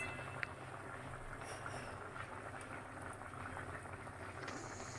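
Hilsa fish curry with tomato and bottle gourd simmering under a lid gives a low, steady bubbling rumble, close and unbroken, with no voices.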